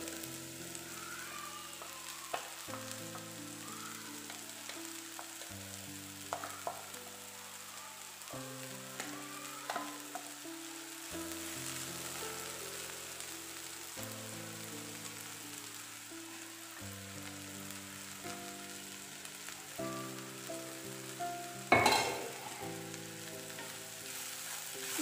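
Crushed coconut stirred into a frying curry in a home kitchen: a steady sizzle runs throughout, with repeated spoon strokes against the pan at a slow rhythm and a louder clatter late on, no voices.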